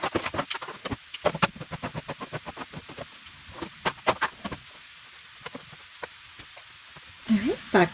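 Gnocchi searing in a pan on an RV travel trailer stove, crackling and popping in a dense run of sharp, close pops, with a clatter at the end.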